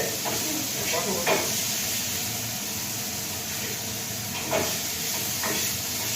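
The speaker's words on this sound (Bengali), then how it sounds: "এটা একটু ভাজা ভাজা হয়েছে" Food fries in a pan in a home kitchen, making a steady hiss and sizzle with occasional scraping clicks, while faint voices sit in the background.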